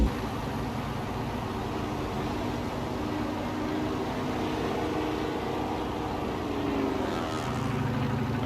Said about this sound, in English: listen to the planes flying about us. The little biplanes.